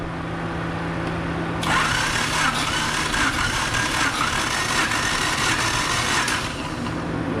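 A Honda H23A VTEC engine cranks on the starter during a compression test, giving a loud, steady rhythmic churning drone for several seconds, close up and without talk.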